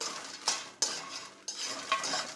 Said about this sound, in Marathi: लाल मिरची टाकते आणि याला छान मस्त असं परतवून घेते